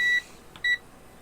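A digital multimeter switched to its resistance setting gives two short electronic beeps, each a steady tone, separated by a brief pause.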